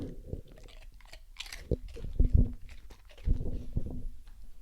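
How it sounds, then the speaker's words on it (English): A dog eats Cheetos nearby, giving repeated crunchy chewing and biting bursts in an irregular rhythm, loudest in the middle, with no talking. "Dog's Eating Cheetos."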